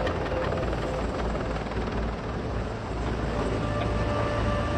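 A CH-53E Super Stallion heavy-lift helicopter gives off a steady, loud rotor and turbine roar that holds constant with no pauses or talk.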